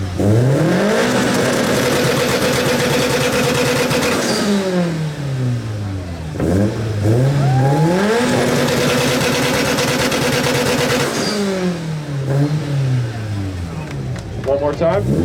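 Loud, near revving from a 2015 Subaru STI's exhaust at a BoxerFest car show exhaust competition, the engine climbing twice into high, sustained roars and dropping back between, with a voice and crowd noise underneath.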